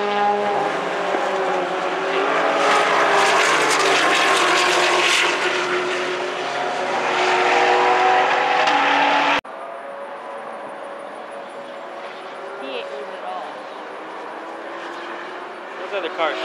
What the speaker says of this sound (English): There is a 2019 ZR1 running on the track.